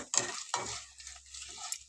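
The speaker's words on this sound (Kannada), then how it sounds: "ಬೆಳ್ಳುಳ್ಳಿ ಹಾಕ್ಬಿಟ್ಟು ಜೀರಿಗೆ, ಸಾಸಿವೆ ಹಾಕಿ ಒಗ್ಗರಣೆ ಮಾಡಿಕೊಟ್ರೆ ಸಾಕು" Garlic, cumin and mustard seeds sizzle in hot oil for a tempering, with bursts of frying crackle and stirring scrapes up close, fading to a quieter hiss.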